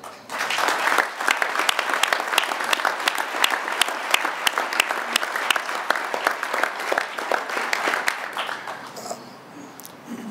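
Audience at the Tesla Gigafactory site announcement breaks into loud, sustained applause, dense clapping that holds steady for about nine seconds before tapering off.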